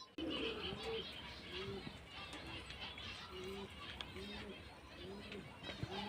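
A pair of Andhra Gola Line Madras pigeons coo in repeated soft, low, rolling phrases at a steady rhythm, close by, under light background noise.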